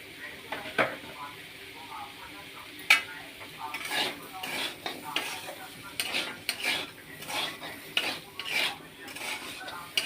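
Sabudana khichdi is sautéed and stirred in a pan, with repeated scraping and clinking of a spoon against metal over a soft, steady sizzle, close up.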